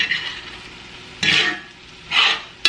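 Marinated garlic steak bites are tossed in a bowl, giving three short, wet, sloshing bursts separated by brief quiet pauses, ending with a quick sharp clink.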